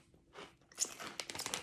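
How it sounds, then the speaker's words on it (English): Close, crisp crunching of hard, puffy spicy queso Cheez-It Mexican snack bites, with several sharp chews that grow denser toward the end and no talking. "Very crunchy."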